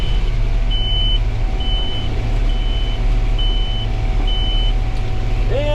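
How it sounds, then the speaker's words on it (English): A combine harvester's hopper-full beeper alarm sounds in a corn harvest field: a steady run of short, high, evenly spaced beeps repeating about every second over the constant loud drone of the machine's engine. "that's the beeper alarm. My hopper's getting up full"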